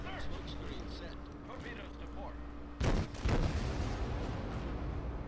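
A warship's naval guns fire in World of Warships, one heavy boom and then a second blast a moment later, each with a rumbling tail over a steady engine hum and faint game ambience.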